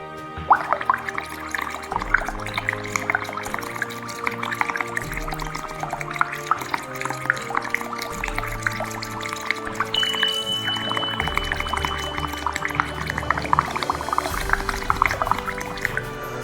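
A long breath blown out through a small straw, heard as a continuous bubbling, gurgling flow that stays close and fairly loud for the whole stretch.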